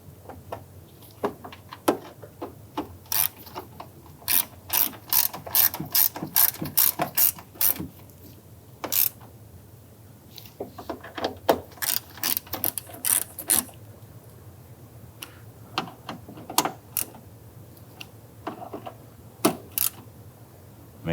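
A ratchet snugs down self-aligning screws on a 1999-2004 Jeep Grand Cherokee front door lock actuator, with bursts of sharp, rapid clicks in quick runs separated by short pauses, close and distinct.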